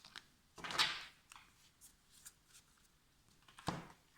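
A card is slid out of an oracle deck, a brief papery swish and rustle followed by lighter handling noises and a final sharp tap, close and quiet.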